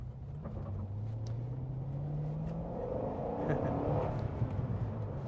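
A Corvette C6 Z06 with its LS7 V8 pulls hard in second gear around 5,000 RPM at highway speed, a steady rising engine drone inside the cabin with no talk over it.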